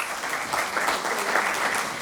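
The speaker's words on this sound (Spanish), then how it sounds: "Fuerte el aplauso nueva vez." Audience applause at a lecture event, a steady dense wash of clapping filling the whole stretch at moderate loudness with no voices over it.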